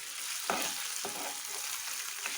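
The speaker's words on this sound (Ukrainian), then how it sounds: "Додаємо печінку і перемішуємо." Chicken liver and onions sizzle steadily in a pan, a close, constant frying hiss broken by a few soft scrapes as the mix is stirred.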